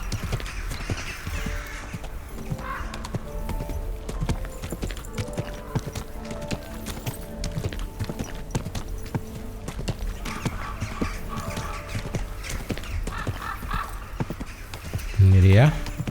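A horse's hooves clip-clop steadily along a road in the medieval game Kingdom Come: Deliverance II. The footfalls are close, and someone talks and game music plays over them.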